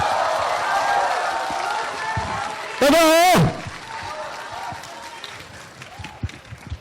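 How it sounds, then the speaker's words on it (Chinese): Applause and crowd noise fill a thousand-seat hall at the world premiere of the film The Climbers. The clapping is steady but fairly subdued, a host speaks over it, and a brief loud electronic squeal cuts through midway. "我希望我们的千人大厅能够把你们最最热情的掌声、欢呼声送"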